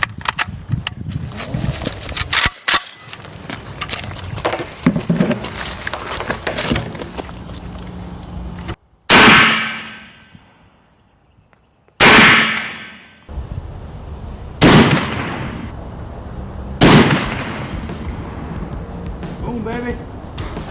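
Rounds from a firearm strike a body armor plate in an outdoor test, heard as several sharp, loud, near cracks spaced a few seconds apart, with people talking in between.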